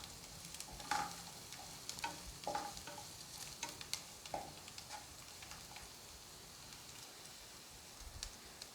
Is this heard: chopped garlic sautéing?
yes